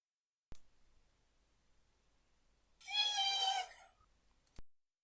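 A single drawn-out cat meow, fairly close and clear, rising out of near silence, with faint clicks at the start and end.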